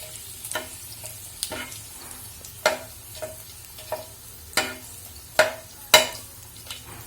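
Green chillies sizzle in hot oil already holding fenugreek and cumin, with a steady frying hiss broken by several sharp stirring scrapes and spatters, close and fairly loud, no one talking.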